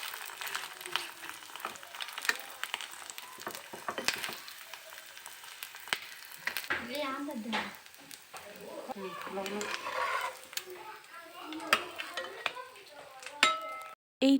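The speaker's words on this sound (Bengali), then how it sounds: "তো আমি খুব আস্তে আস্তে ধৈর্য সহকারে ভাজতেছি।" Egg paratha fries slowly in a pan with a soft continuous sizzle and occasional scraping and clinks, heard close and moderate under intermittent background voices.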